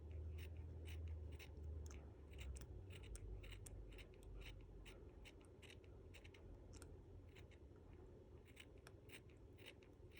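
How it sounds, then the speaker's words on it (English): Scissors snip repeatedly through a fabric fringe, cut from a gold top edge down to a green bottom edge for a mini flower. The crisp clicks come close and steady over a low background hum, with no talk. "Just move your scissors over ever so slightly."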